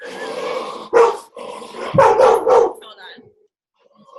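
A pet dog barks at home in a few sharp, close bursts, two or three loud yaps that mix with a voice as she greets it.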